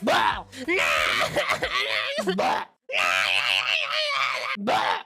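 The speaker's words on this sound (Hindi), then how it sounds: "और उनका वो बच्चा रो रो के अलग घर भर देता है।" An infant wails and cries loudly in a home, its voice rising and falling in long strained bursts with one brief pause midway, close and dominant throughout.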